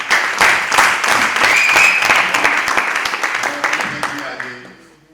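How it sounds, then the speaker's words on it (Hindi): Loud audience applause fills a Hindi poetry gathering (kavi sammelan), dense clapping that holds steady, then thins and fades out toward the end. "एक बार जोरदार तालियां बजाएं"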